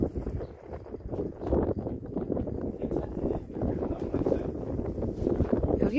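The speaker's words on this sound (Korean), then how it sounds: "바람이 잘 들어온다." Wind gusts buffet the microphone at a seaside viewpoint on a Jeju beach overlook, a rough, rumbling roar that swells and dips continuously, with faint voices in the background.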